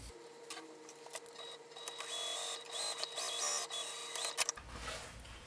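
Sewing machine stitching along a folded fabric edge, a quiet, close mechanical whir with rapid ticking bursts, stopping near the end.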